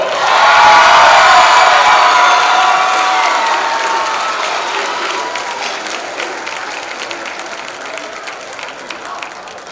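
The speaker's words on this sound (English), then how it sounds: "Another round of applause for the Varsity Girls All-Tournament team." A crowd at a high school girls' varsity basketball tournament bursts into loud applause and cheering with some shouts, peaking early and then gradually fading as the clapping thins out.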